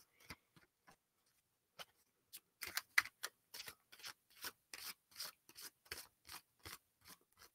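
Tarot cards being shuffled: a few soft taps, then a quick rhythmic run of crisp riffling bursts, close and fairly quiet.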